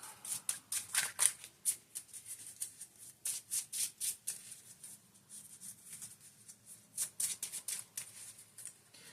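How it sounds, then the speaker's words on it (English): A deck of cards for a Captain America versus Red Skull card game is shuffled up close in quick bursts of riffling and rustling, with brief pauses between runs. "So he shuffles up this lovely deck of cards."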